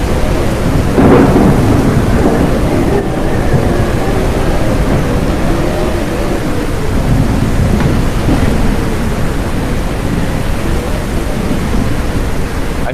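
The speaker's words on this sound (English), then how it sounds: "I said it's really raining." Heavy rain pours in a thunderstorm at a wilderness campsite on the Gold River, with a dense, loud, constant hiss of rainfall and a low rolling rumble of thunder near the start.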